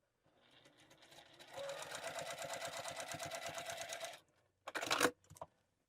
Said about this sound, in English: Then we'll sew straight down the wide end.